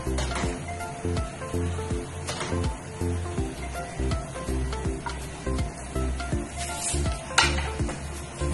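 Squash and coconut milk simmer and bubble in a pot while a utensil stirs and scrapes in a steady, repeated rhythm, with occasional clinks against the side.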